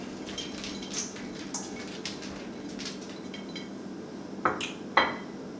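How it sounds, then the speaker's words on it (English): Warm potato salad with green onions, bacon and vinaigrette being stirred in a bowl: soft scraping and mixing, with a few light clinks of a utensil against the bowl and two sharper knocks near the end. "We're just going to mix all these ingredients together while they're still warm."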